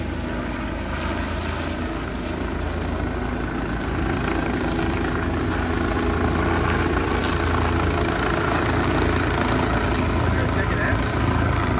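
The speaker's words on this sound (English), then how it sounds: "Yeah, somebody's getting airlifted." A helicopter drones steadily overhead during an airlift in the Mississippi off-road riding area, its engine and rotor roar loud and continuous throughout, with people talking over it.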